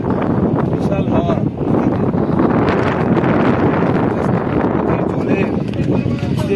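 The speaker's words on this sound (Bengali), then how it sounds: "বিশাল হাওয়া।" Strong wind buffets the microphone beside a river near Kolkata, a steady loud roar with rustling gusts and faint lapping waves throughout.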